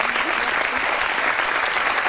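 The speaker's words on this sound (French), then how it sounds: "Je voudrais juste vous applaudir" A studio audience claps in a continuous, even wash of applause, steady and fairly loud throughout the short stretch.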